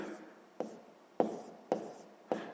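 Pen or pencil writing math by hand on paper, close and quiet, with five short scratchy strokes at a roughly even rhythm.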